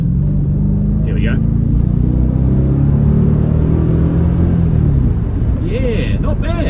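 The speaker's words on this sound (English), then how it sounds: "Give it a little bit of gas. Drop it into second." A 1998 Mercedes W210 E55 AMG pulls away under light throttle, its deep engine rumble droning steadily close up before easing as it shifts into second gear, with a voice talking over it.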